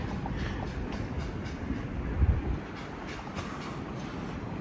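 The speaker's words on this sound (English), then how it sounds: "Yeah, a train does go here." A train passing on a railway in Japan, a steady distant rumble with faint clickety-clack of wheels on track and a brief low thump midway, no voices.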